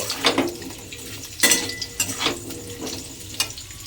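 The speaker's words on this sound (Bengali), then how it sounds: "আলুগুলো তেলের মধ্যে দিয়ে এবার আলুগুলোকে আমি একটু লাল করে ভেজে নেব।" Diced potatoes fry in oil in a pan as a utensil stirs them, with sharp metallic clinks and scrapes at irregular intervals over a soft sizzle.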